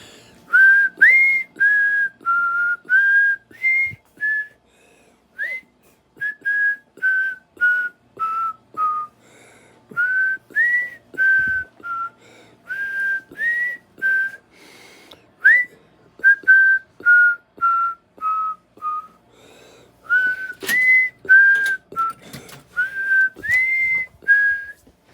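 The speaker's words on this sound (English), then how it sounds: "You want to whistle?" Someone whistles a melody with the lips, close and clear, in short phrases of several notes separated by brief pauses, continuing steadily and alone with no talking.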